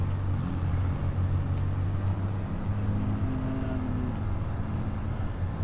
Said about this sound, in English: Yep, there he goes, roaring past.